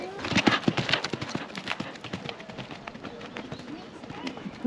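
Hooves of a ridden horse in a show-jumping training session, a quick run of rhythmic thuds at steady pace, fairly close and moderately loud.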